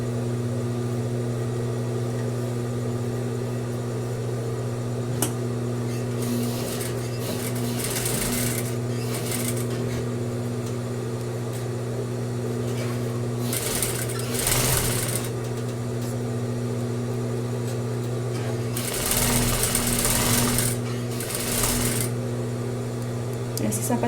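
Sewing machine stitching the other side of a zipper on a shoe, a constant low motor hum under a steady background with several brief brighter bursts of stitching noise.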